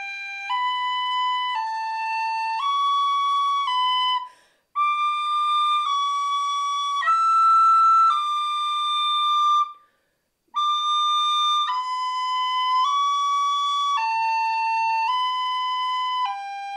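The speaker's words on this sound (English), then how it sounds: "we're now going to just do a little exercise just to get the finger working in patterns on the whistle" An Irish tin whistle plays a finger-pattern exercise, a steady sequence of clear stepped notes in repeating patterns, with two brief pauses between phrases, close and solo.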